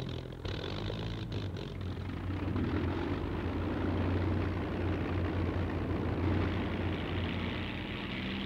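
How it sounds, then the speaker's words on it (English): P-47 Thunderbolt fighter aircraft taking off from runway 28 at a USAAF base in the UK, a loud, steady piston-engine roar that holds throughout and swells slightly midway. "These Thunderbolts are taking off from runway 28."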